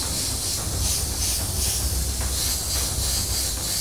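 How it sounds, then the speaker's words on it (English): An airbrush blows a steady jet of air to dry white paint on a clown mask. The hiss is loud and close and runs without a break for the whole stretch. "Use the air to dry it."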